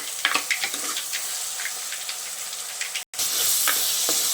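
Tomatoes sauté in hot oil with a pinch of rock salt for an okra tamarind curry, a bright steady sizzle with light stirring clicks, close, briefly cut silent for a moment before the frying hiss resumes.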